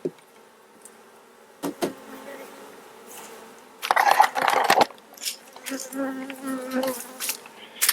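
Honeybees buzz faintly around a backyard hive, a low hum punctuated by louder passes as individual bees fly close, with some handling noises and knocks nearby.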